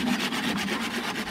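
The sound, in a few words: hand saw cutting wood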